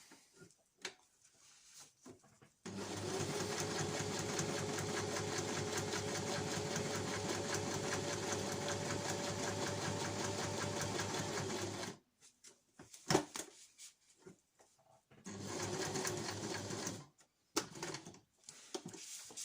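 A sewing machine stitches a reusable snack bag in a steady, continuous whirring run of about nine seconds, then stops for a quiet pause with small handling clicks before a second shorter burst of stitching.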